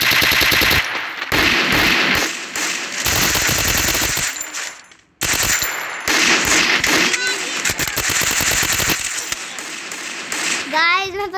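Rapid bursts of automatic gunfire from an MP gun with a fire skin in the Free Fire video game, loud and close, coming in repeated volleys with brief pauses, alongside a voice talking.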